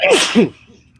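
A single loud, close sneeze bursts out sharply and then cuts off into silence.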